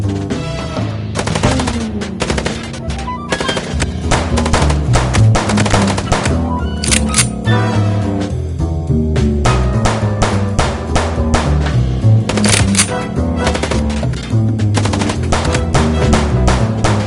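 Rapid, loud gunfire from Chicken Police fills the stretch, dense bursts of automatic shots repeating almost without pause, with no talking over it.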